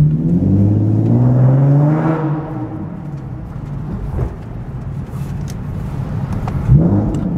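A modified Nissan 370Z pulls hard under load with a throaty, rising exhaust drone, then eases off into a rumbling idle and a short rev near the end.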